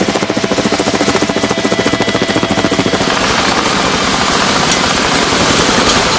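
Helicopter hovering close over a power-line tower construction site, a loud steady rotor chop with continuous engine roar throughout, no voices.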